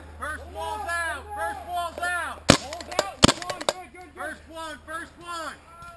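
Paintball markers firing at an outdoor paintball field, a quick burst of sharp cracking pops near the middle with a few scattered single shots, heard under a player shouting calls nearby.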